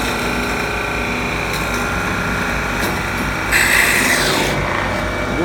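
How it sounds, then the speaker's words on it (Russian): A Hempel VK10 machine tool runs with its hydraulics switched on, giving a steady, loud mechanical hum and rasping whir throughout, with a brief hissy surge midway. "Включаем гидравлику."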